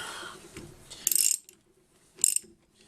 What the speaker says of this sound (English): Tighten it a bit, or spin it down at least with the socket. Ratchet the right direction.